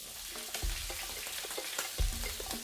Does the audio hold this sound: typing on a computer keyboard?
no